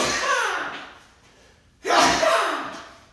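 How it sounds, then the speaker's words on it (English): A person sneezes loudly and close by twice during a home lockdown workout, each burst sharp and breathy, fading away over a second with a quiet pause between the two. "I'm about to sneeze."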